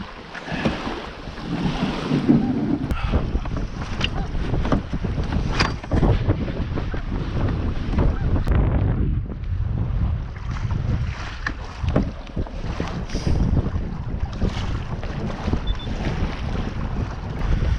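Strong wind on a kayak outing buffets the microphone in heavy, uneven gusts, a roaring rumble that swells and eases without letup.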